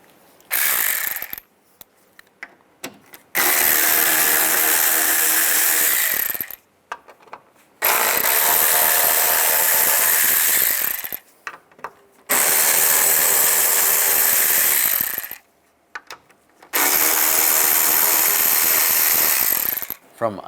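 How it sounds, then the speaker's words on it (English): Four screws being backed out with a T20 socket on a ratchet from a panel on a 2010-2017 Chevy Equinox, in repeated bursts of rapid close clicking separated by short pauses. "Take these screws out. There's 4 of them."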